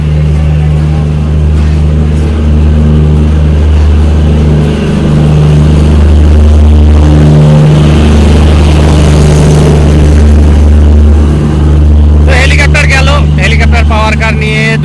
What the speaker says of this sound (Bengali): হেলিকপ্টার পাওয়ার কার নিয়ে Drutojan express Parbatipur rail junction থেকে ঢাকার উদ্দেশ্যে একদম সঠিক সময় ছেড়ে গেল